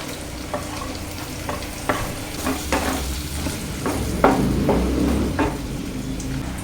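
Sliced onion frying in a pan in a home kitchen while being stirred, a steady close sizzle broken by repeated scraping and clinking strokes of a spoon against the pan.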